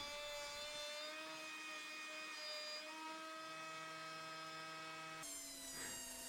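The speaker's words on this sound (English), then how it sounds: "More sanding." A power sander drones continuously on a wooden mallet with a steady high whine, its pitch shifting slightly as it works, loud and close.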